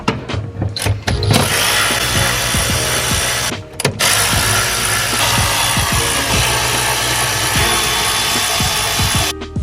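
A ratchet wrench removes 10mm bolts from a car's fuel return line. The clicking is loud and close, with a rapid run of ratchet ticks, a brief pause, and then further bursts of clicking along with the clatter of tools and metal.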